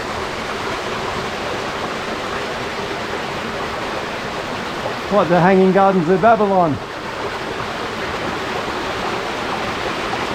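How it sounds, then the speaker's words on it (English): Water rushes steadily out from under a large boulder into a cave, a loud constant roar like a small waterfall, with a person speaking briefly partway through. "the water's just flowing out from underneath this big boulder into this cave"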